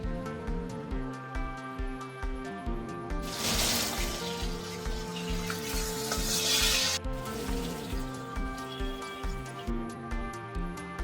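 Large bhola fish pieces frying in hot oil in a wok over a wood fire, giving a steady sizzle that swells into a loud, dense crackle midway and then settles, with a rhythmic musical backing throughout.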